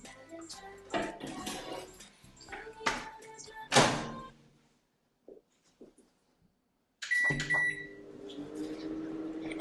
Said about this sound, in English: And now you pop this into the microwave.